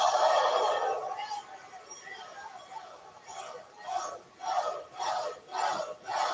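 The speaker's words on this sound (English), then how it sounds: "Literally everybody in the crowd chanting." A wrestling arena crowd at a TNA iMPACT event roars loudly, then settles into a rhythmic chant with steady, evenly spaced pulses of massed voices.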